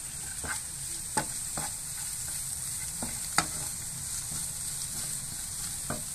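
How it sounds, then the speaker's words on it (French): Onions cooking with parsley and coriander in a pan, a continuous sizzle under intermittent scrapes and clicks of stirring, close by and without talk. "Donc vous le mettez avec les oignons. Vous mélangez."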